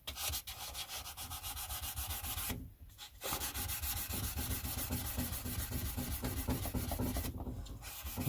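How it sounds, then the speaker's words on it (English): A Dremel rotary tool polishing parts of a Harley Benton HB35 guitar with rubbing compound, producing a steady close abrasive rubbing whir that stops twice for a moment. "I'm going to go ahead with the Dremel tool, some rubbing compound. I'm going to polish these up."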